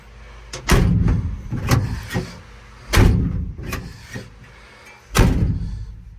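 A homemade truck door fitted with a new weather strip slams shut several times, giving heavy thuds with rattling decay and quieter handling sounds between the closes.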